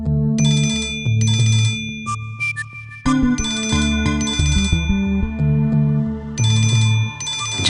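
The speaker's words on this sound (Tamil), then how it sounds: "ஜெயா ஃபோன் பண்றா." A mobile phone rings with a melodic electronic ringtone for an incoming call, its bright chiming phrases repeating loudly and close, with brief pauses between them and no voices.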